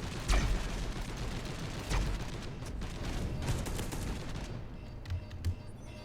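Heavy assault cannon firing in the video game Space Hulk Deathwing, a dense rapid stream of mechanical gunfire and impacts over a booming low rumble, sustained and loud throughout.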